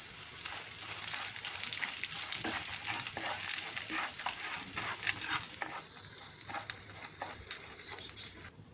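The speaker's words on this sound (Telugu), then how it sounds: "ధనియాలు వేసి వేయించుకోవాలి." Urad dal, chana dal, cumin and coriander seeds fry in a little oil in a kadai, with a constant crackling sizzle and frequent light stirring clicks throughout.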